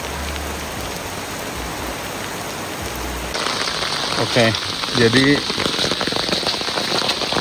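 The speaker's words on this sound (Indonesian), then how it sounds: "Hujan semakin menjadi, petir mulai bergemuruh di kejauhan." Heavy rain drums on a tent at night in a steady, dense patter that swells partway through, and a person speaks briefly over it.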